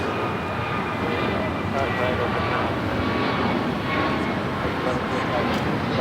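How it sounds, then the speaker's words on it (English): An American Airlines A321neo bound for Charlotte takes off at Los Angeles LAX, its engines making a steady, broad roar that fills the whole stretch, with faint voices underneath. "This is American Airlines 1105 taking off to Charlotte on the A321neo."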